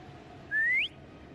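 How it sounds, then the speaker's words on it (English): A single short rising whistle, clear and bright, from a character in the video game Wuthering Waves, sounding alone over a faint ambient background. "Try whistling."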